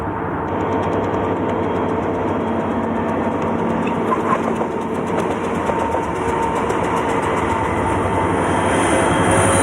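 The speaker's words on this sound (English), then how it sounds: "this UP train will drop 180 feet in elevation" A Union Pacific freight train rumbles continuously through Feather River Canyon in 1996, loud and close, with steady engine drone and rhythmic rail clatter.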